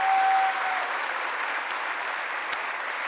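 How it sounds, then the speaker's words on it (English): A large audience at a Greek Canadian gathering in Toronto claps for a dance group in regional costumes, a full, even round of applause that holds steady throughout, with one brief sharp sound near the end. "Let's give them a big round of applause."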